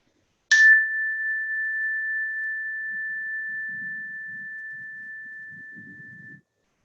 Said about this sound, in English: bring your complete awareness to the very last trace of sound from this chime